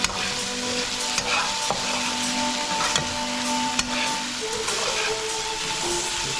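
Okra and saltfish stew stirred in a pot, a steady sizzling bubble with a continuous hiss and occasional faint scrapes of the spoon.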